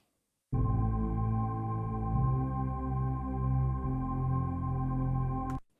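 A deep, warm synth pad swells in, its low chord slowly shifting and pulsing gently before cutting off cleanly.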